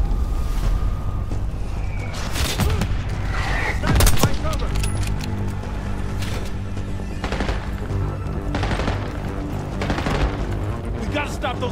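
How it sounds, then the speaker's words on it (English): Mortar blasts and bursts of gunfire in Call of Duty Black Ops 6 crack and thump repeatedly at close range, with several heavy impacts amid continuous combat noise and shouted voices. "We gotta stop those mortars!"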